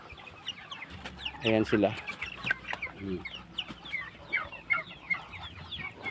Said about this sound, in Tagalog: Ito naman yung aking mga Rhode Island na mga breeder guys.